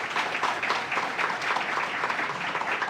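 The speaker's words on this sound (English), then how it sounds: "Give them a round of applause." An audience claps at a grand opening ceremony for a company headquarters, a brief steady patter of applause at moderate distance, with no talk over it.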